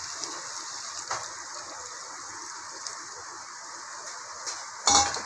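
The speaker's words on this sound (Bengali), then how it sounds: "আমি জল দিয়ে দেবো।" Water gushes steadily into a pot of catla fish-head and potato curry in a home kitchen, a soft continuous pour with a faint clink near the end.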